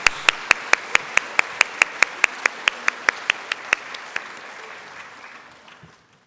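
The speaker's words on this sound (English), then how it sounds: "Another round of applause." Applause at a staff service and excellence awards ceremony, led by a single person clapping in a steady, regular rhythm close by over a softer crowd, fading out toward the end.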